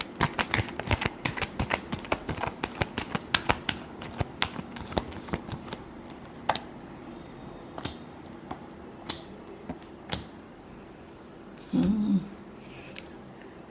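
Tarot cards are shuffled by hand in a rapid run of crisp riffling flicks that slow into scattered single taps, followed by a brief soft shuffle near the end, close and clear in a quiet room.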